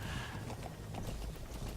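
Horse hooves pounding in a steady gallop inside Metal Gear Solid V, a dense continuous rumble of clip-clop beats running the whole time with no talk over it.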